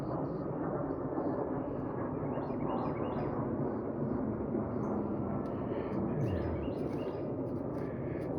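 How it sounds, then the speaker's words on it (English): A jet passes high overhead above a wooded winter trail in Panther Creek State Park, a distant low rumbling roar that stays steady throughout, with faint bird chirps scattered above it. "Jet going overhead."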